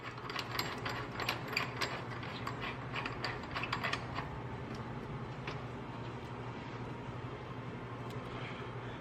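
Ratchet wrench tightening a pinch nut onto a cab mount bolt on a Toyota Tacoma during a cab mount bushing upgrade, with rapid clicking bursts in the first half that ease into steady low mechanical noise, close and fairly loud.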